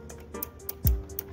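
The button of a soda vending machine is pressed, giving a few faint light ticks and a single soft thump from the mechanism, close by and with no talking.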